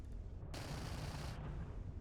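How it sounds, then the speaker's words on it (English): Ballistic cannons fire from a ship in the Starfield video game, a loud dense burst of gunfire lasting about a second that cuts off sharply, with a softer background rumble before and after. "As you can see, there's the ballistic cannons. They're extremely overpowered."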